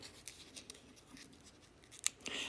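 Scissors snip off the end of a folded paper envelope for a Christmas craft, a few quiet cuts with the sharpest, clearest snips near the end, close and alone without talk.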